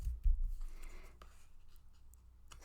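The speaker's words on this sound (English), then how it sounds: "Let's get your cards." Tarot cards being shuffled and handled at close range, a soft continuous papery rustle with a few light taps and slides of the cards.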